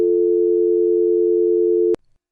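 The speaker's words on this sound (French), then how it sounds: "placez-le à votre oreille, écoutez la tonalité" Telephone dial tone from a handset, a loud continuous steady hum held close to the ear for about two seconds before cutting off abruptly with a click.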